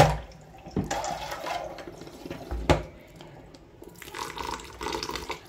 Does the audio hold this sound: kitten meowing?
no